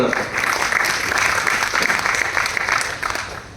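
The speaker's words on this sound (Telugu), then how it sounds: "round of applause" An audience at a Vestige business meeting gives a round of applause, a dense burst of clapping from many hands that holds steady for a few seconds and then starts to fade.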